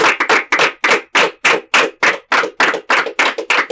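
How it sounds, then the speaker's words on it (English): Heavy, evenly spaced claps sound close and loud at a primary inter-school quiz competition, roughly three strong beats per second in a rhythmic pattern. "give yourselves a big round of applause for a job"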